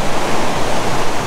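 Ocean waves at Trestles Beach, California, make a continuous loud broadband wash of surf, steady and close with no voices.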